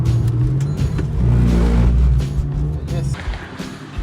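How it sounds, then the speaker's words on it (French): A front-wheel-drive car drifting, with a loud, close engine roar that swells and holds, and tire noise across the whole stretch. "donc c'est une traction et on va faire du drift"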